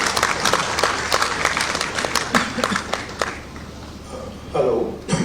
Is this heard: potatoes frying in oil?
no